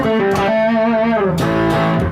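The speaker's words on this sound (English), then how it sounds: "let me switch to the overdrive channel" Electric guitar played through the overdrive channel of a Joyo Jackman amp, a thick, sustained distorted chord and melodic line ringing loud and alone for about two seconds.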